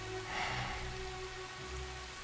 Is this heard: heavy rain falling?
yes